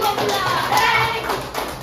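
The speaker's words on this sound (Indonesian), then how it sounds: "Tepuk tangan tuh buat kelompok 1" Classroom of students clapping for a group during a teaching lesson, a steady, fairly loud patter of many hands with children's voices underneath.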